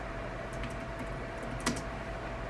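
Quiet, steady tapping of keys on a computer keyboard, a continuous run of soft clicks with one slightly louder stroke, close by against a faint background hum.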